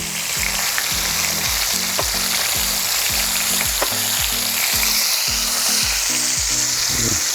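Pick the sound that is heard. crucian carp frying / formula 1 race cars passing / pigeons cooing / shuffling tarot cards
crucian carp frying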